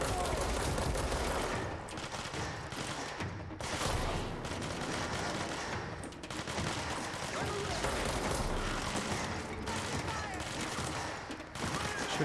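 Sustained video game gunfire crackles in dense, rapid bursts throughout, heavy and loud like a barrage of automatic weapons, with short gaps between volleys.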